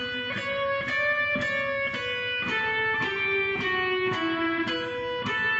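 Guitar playing measure 14 of Pachelbel's Canon in D: a steady run of single plucked notes, roughly a dozen evenly spaced attacks, with the melody stepping downward as it goes. Close and solo, with no voices.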